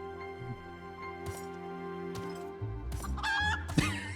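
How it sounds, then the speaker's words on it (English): A chicken in the Final Fantasy XIV video game clucks and squawks in a burst of agitated calls, growing louder toward the end over a steady background of game music. "Even the chicken is scared."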